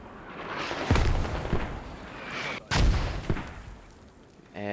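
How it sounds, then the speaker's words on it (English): Mortar rounds land in the Squad video game on the Logar map, two heavy booming impacts about two seconds apart with rumbling tails, set against steady battlefield noise. "And the mortars are dropping on West DC, but they're too far."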